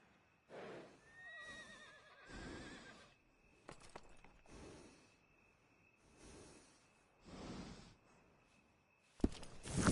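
A horse in Red Dead Redemption 2 neighs in several loud, shaky whinnies spaced across the stretch, with hoof clops and snorts between them and a sharp noisy burst at the end.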